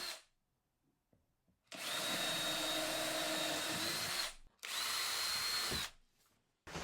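A power drill boring holes in pallet wood, two sustained loud whirring bursts of about two and a half seconds and one second, separated by short pauses and framed by near silence.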